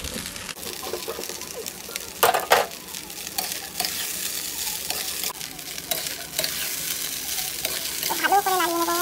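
Pasta frying and being stirred in a pan for a paneer pasta with chopped chilli, a continuous sizzle broken by scraping stirs of the spatula, with a brief voice near the end.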